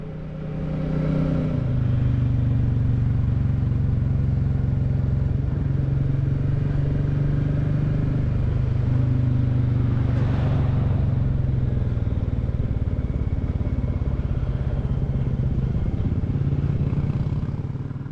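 Royal Enfield Classic 350 single-cylinder motorcycle riding along a country road, a steady, fairly loud low engine thrum with slight shifts in pitch as it cruises, plus wind noise throughout.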